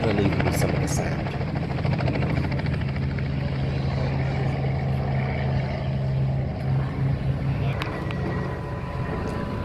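A Wirraway propeller aircraft engine drones steadily and loudly throughout at an airshow, a low sustained hum with a rougher buzzing overtone, as the plane passes close by.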